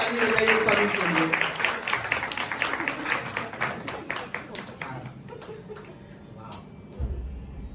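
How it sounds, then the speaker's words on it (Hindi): Audience clapping at a stage event, a dense burst of applause that gradually thins into scattered claps and fades out, with voices talking over it. "सब लोग जोरदार ताली बजाइए पवी के लिए।"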